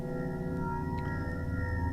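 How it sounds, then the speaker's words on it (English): A drawn-out clock chime processed on an Akai MPC Live sampler rings steadily, with layered humming overtones and a faint chirp near the middle, eerie and unbroken. "It's just another kind of spooky clock chime that I've manipulated."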